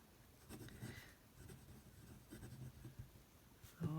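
Fountain pen nib scratching across thin Tomoe River paper in a sample notebook, soft intermittent strokes close up and quiet, with brief pauses between them and no talking.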